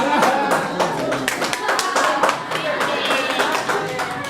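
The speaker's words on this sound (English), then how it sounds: "Can you clap for him?" An audience of university students at a Kampala campus lecture applauds a classmate with steady, dense clapping close by, while voices talk over the applause.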